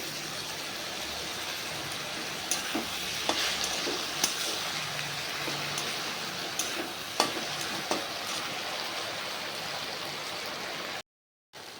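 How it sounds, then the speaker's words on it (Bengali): Spice paste poured into a pan of frying taro stolons sets off a loud, steady sizzle with occasional stirring clicks, heard close up and continuous until a brief cut near the end. "তো এখন এই যে মশলাটা ঢেলে দেবো।"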